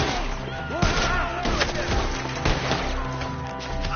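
Gunfire in the Red Dead Redemption 2 video game during a shootout, sharp repeated shots and impacts crackling close over busy battle noise and shouting voices.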